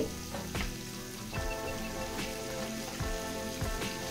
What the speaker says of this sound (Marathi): कांदा छान ब्राऊन होसपर्यंत परतून घ्यायचा